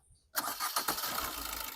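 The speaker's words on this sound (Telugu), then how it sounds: "సింగిల్ సెల్ఫ్లో బండి స్టార్ట్ అవుతుంది." A 2017 Maruti Dzire VDI(O) automatic diesel car cranks once and catches straight away, then settles into a steady, clattering idle close to the microphone after a brief quiet moment.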